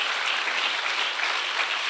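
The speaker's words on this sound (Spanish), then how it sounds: "Démosle un aplauso a Él, a nuestro Dios providente" Church congregation applauding together during a worship service, a steady dense wash of clapping that holds evenly throughout without talk.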